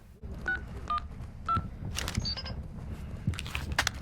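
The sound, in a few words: picking up a phone in Call of Duty DMZ, video game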